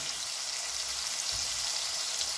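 Shrimp frying in a pan with already-fried onions gives a steady, soft sizzling hiss throughout, with no talking.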